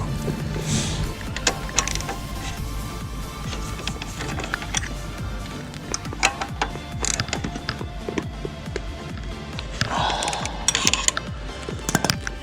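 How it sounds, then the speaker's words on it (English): Ratchet wrench tightening titanium exhaust bolts on a Speed Triple 1200 RS motorcycle: quiet, irregular clicks and metallic ticks come in short runs up close, with small clanks of tools among them. "I'm gonna tighten these up now."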